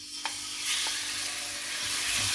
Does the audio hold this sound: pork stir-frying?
yes